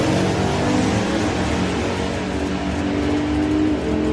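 A drag race car with a throttle stop at a European Finals meet thunders past down the strip, a loud, close, continuous engine roar holding steady throughout.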